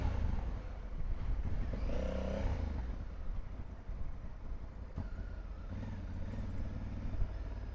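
A Honda Africa Twin motorcycle rides home from the dealership, its engine a steady low drone under constant wind rush at the microphone, with a brief rise in revs partway through.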